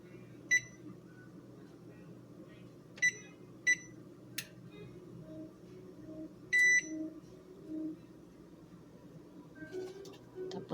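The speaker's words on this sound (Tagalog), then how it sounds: "iset natin yung alarm ng 45 minutes." Several short, sharp electronic beeps sound at irregular intervals over a low background hum as a kitchen timer is set for 45 minutes while steaming ube sapin-sapin layers.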